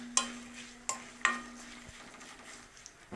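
A tempering for tomato chutney fries quietly in a pan, with a soft background sizzle broken by three sharp clinks of a spoon against the metal.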